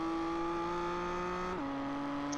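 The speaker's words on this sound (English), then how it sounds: "Listen to the sound of that exhaust as we ride on board with Gerald Fourie." Onboard a GT race car at speed, the exhaust gives a steady, loud, droning engine tone that holds high, then steps down abruptly as the car changes gear, with continuous wind and road noise underneath.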